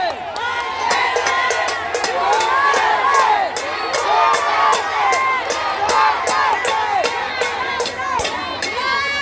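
A big outdoor political rally crowd in the Philippines chants and cheers the name Duterte in rhythmic repeated shouts, loud and close, with whistles and voices layered throughout.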